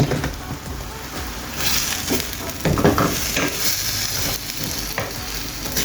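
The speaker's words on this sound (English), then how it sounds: "I'm gonna fry this up guys." Green seasoning with Italian spice, dry herbs and garlic powder fries in a pan, a loud close sizzle with stirring scrapes running steadily throughout.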